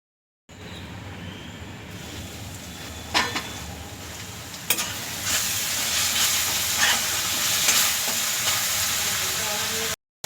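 Onions with salt sizzle and steam steadily in a covered pan, a continuous frying hiss with a few brief louder clatters, close and alone without talk.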